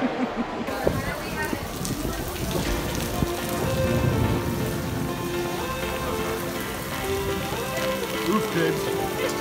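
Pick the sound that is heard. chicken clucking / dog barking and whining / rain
rain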